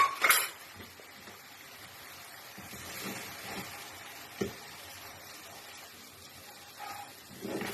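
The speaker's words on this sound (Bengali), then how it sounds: "এখন ডিমটাকে ফেটিয়ে মিক্স করে দেবো।" Beaten eggs are stirred and mixed in a pan while cooking lunch, giving faint, scattered scraping and clinking of a utensil against metal, with a few sharper taps, over a steady low background.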